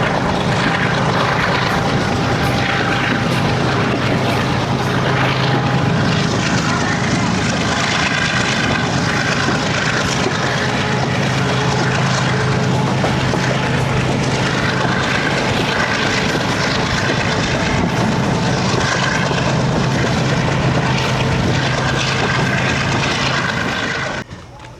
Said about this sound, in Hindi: ज़बरदस्त साउंड GU40 की।